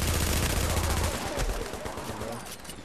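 Rapid automatic gunfire from the shooter game The Division rattles loudly and densely at first, then thins into scattered bursts as it continues.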